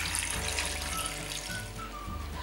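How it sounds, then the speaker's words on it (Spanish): Water pours steadily into a pot of peeled artichokes, salt and a bay leaf, a continuous close rushing gush with no talk. "Añadimos un poco de sal, una hoja de laurel y lo cubrimos de agua."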